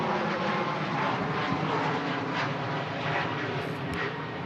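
A Boeing 737 departs Manchester Airport, its loud, steady engine roar filling the air with a broad, sustained rumble and no voices over it.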